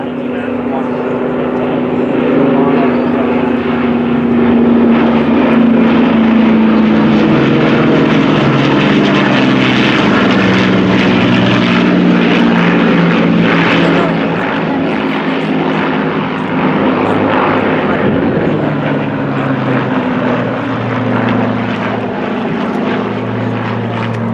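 Propeller aircraft, a Dakota and a Lancaster, flying at an RAF air show at Cosford, producing a loud, steady droning roar with a deep harmonic hum that holds throughout.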